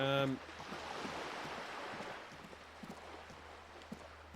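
In the game Disco Elysium, a low rumbling wash of water against a passing boat, a steady hiss with faint knocks, following a brief tonal chime at the start.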